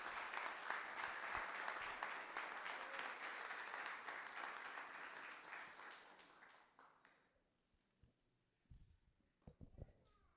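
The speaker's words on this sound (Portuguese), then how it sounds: "Então, as palmas louvam o Senhor Jesus." Children clap in a church, a dense burst of applause that fades over several seconds into near quiet, followed by a few scattered claps and knocks.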